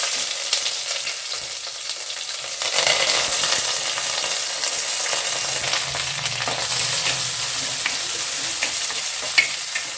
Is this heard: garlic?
yes